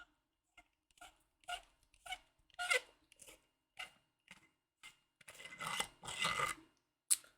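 A Graflex lightsaber handle is unscrewed, a run of faint, close scraping and gritty clicks in short irregular bursts, ending in a longer rasp and a final click.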